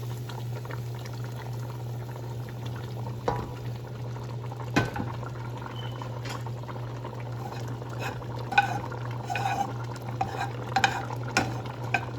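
Chicken pieces go into a simmering mung bean dish and are stirred, giving soft scraping and clinking spoon strokes over a steady low bubbling hum, with a few sharper knocks of the spoon against the pot.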